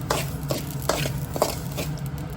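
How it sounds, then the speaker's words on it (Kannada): Poppy seeds roasting in a hot pan for homemade sambar powder, with a continuous dry crackle and rhythmic scraping strokes as they are stirred, close and moderately loud. "ಗಸಗಸೆ ಚಟ ಚಟ ಅನ್ನೋರ್ಗು ಹುರ್ಕೊಬೇಕಾಗತ್ತೆ"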